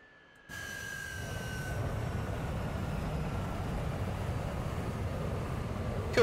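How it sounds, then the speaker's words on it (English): A Su-27 Flanker's jet engines in DCS World wind down after shutdown, a steady broadband rumble with a slowly falling whine that holds at a constant level throughout with no talk. "All that's left now is to shut down the engines."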